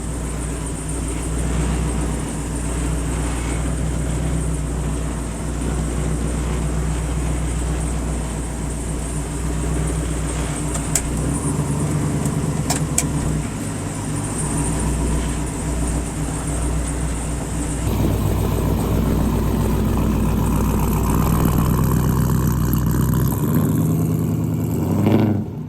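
A supercharged, engine-swapped truck with a rear locker drives on the street, its engine giving a steady, loud, low drone with shifts in pitch as it pulls along, and no talking over it.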